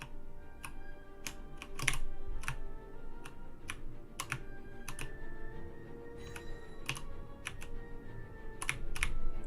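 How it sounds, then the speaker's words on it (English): Rapid computer keyboard typing with crisp, irregular key clicks in clustered bursts, close and fairly quiet against a low background hum, no talking. "This keyboard, what's going on with this keyboard?"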